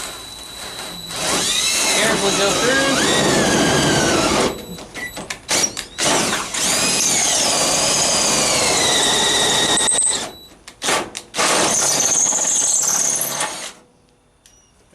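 Drill boring through the steel hood of a 1980 Chevrolet C10 with a larger bit, loud high-pitched whine with squeals that runs in long bursts and stops in between, with a brief spoken remark.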